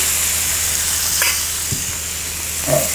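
Boiled cluster beans fry in a pan with a loud, continuous sizzle and hiss, broken by a few soft scrapes and clinks of stirring.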